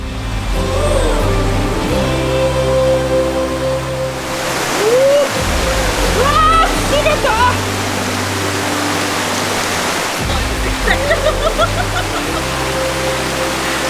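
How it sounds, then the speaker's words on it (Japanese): Loud, steady rushing of a flowing river in a Japanese summer fills the scene, with a low rumbling tone and occasional voices talking over the water. "Oh, that river looks so cool."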